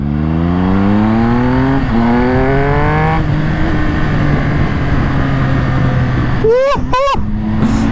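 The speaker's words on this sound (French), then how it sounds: "C'est Mr Pitzel avec cette magnifique Speed Triple RS." A Triumph Speed Triple 1200 RS, a 180-horsepower motorcycle, is heard close and loud while riding, its engine rising through the revs with gear changes, then two sharp throttle blips near the end.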